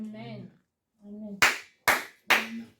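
A church congregation bursts into three short, loud rounds of applause, each clap burst separated by brief pauses and preceded by a voice calling out.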